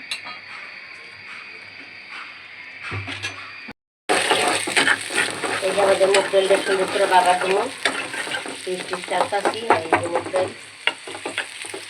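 Mung dal being stirred in a cooking pot, a steady scraping and bubbling sizzle that runs loud and close after a brief pause, with spoon clinks against the metal.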